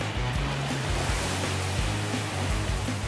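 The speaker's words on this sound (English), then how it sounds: "Powerful jets of water are being shot out from this board at my feet." Powerful jets of water blasting continuously from a flyboard, a steady loud roaring rush with a low engine-like rumble from the watercraft feeding it, close and unbroken throughout.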